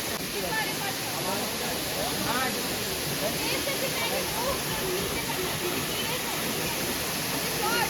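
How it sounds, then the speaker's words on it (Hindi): A roadside waterfall about 20 kilometres before Mussoorie roars with a steady, close wash of falling water, while a person talks over the rushing noise. "ये देखो ये झरना भाई मंसूरी से 20 किलोमीटर पहले"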